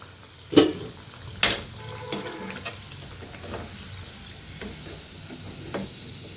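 Paruppu vadai, lentil fritters, fry in hot oil with a steady close sizzle, broken by a few sharp bursts as pieces drop in or get stirred.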